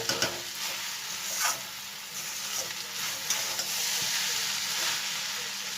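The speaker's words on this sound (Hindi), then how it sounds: "चलिए मैं इसको अच्छे से मिला के दिखाती हूँ आपको" Egg noodles tossed with vegetables in a hot pan, a steady sizzle with repeated scraping stirs and a few sharp utensil knocks, close and fairly loud throughout.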